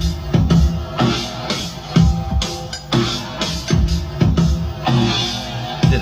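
A processed drum loop with punchy kicks and snappy snares in a steady, repeating groove, loud and dense with heavy effects.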